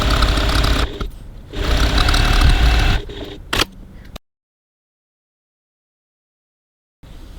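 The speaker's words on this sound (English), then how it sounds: "Okay, so now I'm stitching the sides of my pocket shut" A sewing machine stitches the sides of a handbag pocket with a 3/8-inch seam allowance and 2.4 stitch length, running steadily for about three seconds, pausing briefly, giving a short burst, then falling silent before a faint restart near the end.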